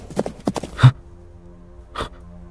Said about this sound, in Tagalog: napansin ni Badong na may mabilis na yabag ang papadaan sa mismong harapan ng puno kung saan siya nagkukubli.